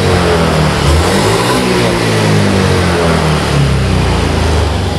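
A Honda Vario FI scooter engine is revved in a throttle test after its sluggish acceleration was fixed. It is close and loud, with the pitch rising and falling through repeated blips of the throttle and no talking.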